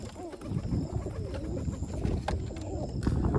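Pigeons, including fancy breeds, coo softly and repeatedly at close range, their low throaty calls rolling over one another amid faint rustling.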